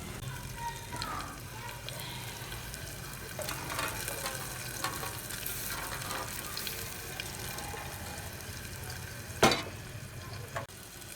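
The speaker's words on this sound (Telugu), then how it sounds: "ఉల్లిపాయలు ఇలా వేయించుకోవాలండి." Onions fry in a pan with a soft, continuous sizzle and occasional stirring scrapes. One louder clatter comes near the end.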